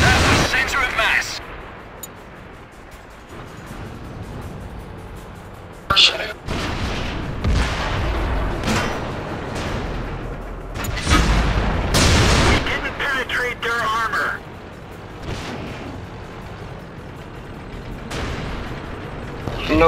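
Artillery fire striking tanks in the video game World of Tanks during a clan battle, with heavy booms and bursts of gunfire recurring across a long, noisy stretch.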